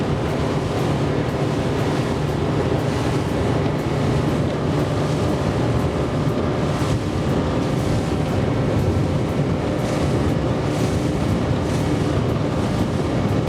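A 2023 Highfield Sport 700 boat powered by a Yamaha F200 outboard cruises at about 4,400 rpm, a loud, steady drone of engine and rushing water and wind noise holding constant throughout, with no talking.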